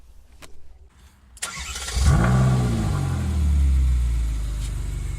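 Ferrari California with its exhaust valve held open cranks briefly, then fires into a loud, deep rev that settles into a rumbling high idle.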